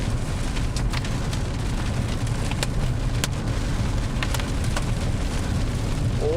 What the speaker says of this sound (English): We're getting some hail, everybody.